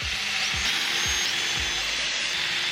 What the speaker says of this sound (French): C'est parti pour l'étape visser les murs les uns aux autres